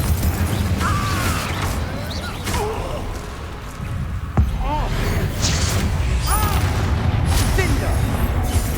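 A Confringo fire spell explodes in the wizarding game Hogwarts Legacy, giving a sharp, punchy boom amid continuous battle noise, whooshing spell effects and scattered magical chirps.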